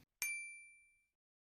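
A single bright bell ding rings out sharply and decays slowly into silence.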